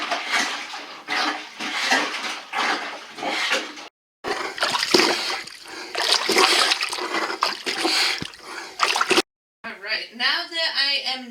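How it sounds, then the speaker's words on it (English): Laundry plunged by hand in a tub of hot water gives loud, continuous sloshing and splashing in repeated surges, broken by two brief pauses, with a voice-like tonal sound at the very end. "Now that I am done actually plunging, doing the washing part"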